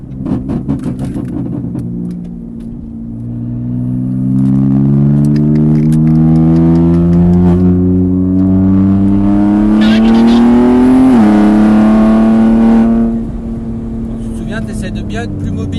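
Race cars on a circuit near the pit exit at Mireval, with close engines holding strong droning tones and rising as they accelerate, loud and steady for most of the clip.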